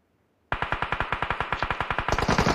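Automatic gunfire in the mobile battle royale game BGMI (PUBG Mobile), a sudden loud, rapid, evenly spaced stream of shots that grows denser toward the end, heard alone.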